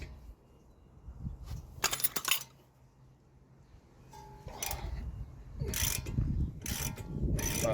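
A ratchet undoes the 14 mm rear brake carrier bolts on a Mazda MX-5 NC, giving bursts of close metallic ratcheting clicks separated by pauses, with busier, louder clicking toward the end.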